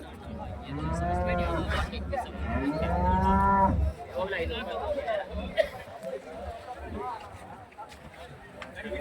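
Cattle moo loudly several times up close at a livestock market in Chintamani, with crowd chatter and general market bustle continuing underneath and afterward.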